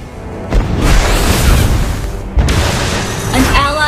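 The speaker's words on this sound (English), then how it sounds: "Our turret has been destroyed!" Explosive booms from a turret being destroyed in Mobile Legends, two loud bursts with rumbling tails, the second hitting around the middle, mixed with game voices and effects.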